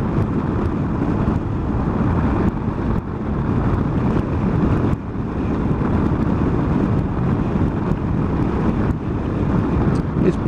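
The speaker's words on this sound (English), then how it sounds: "Breezier down here than it was up on the bridge." Wind blows steadily beside a river near an old bridge, a loud, constant rushing buffet that fills the whole stretch with no pauses.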